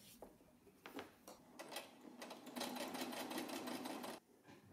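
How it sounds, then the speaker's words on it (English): Sewing machine stitching a hem with a wide hem presser foot, short bursts of rapid mechanical whirring that settle into a longer steady run, close and fairly quiet. "put it underneath the presser foot and sew away, just like you did at the start"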